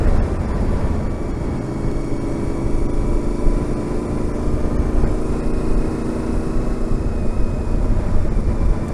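A motorcycle fitted with a loud race pipe exhaust, a close, continuous throaty engine drone that holds steady throughout with no talk over it.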